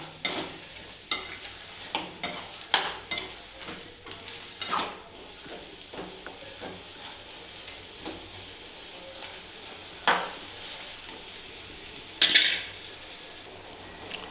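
Tomatoes frying in a pan for garlic chutney while a spoon stirs them, with soft sizzling underneath and irregular scraping and clinking strokes against the pan, close and fairly quiet, no talking.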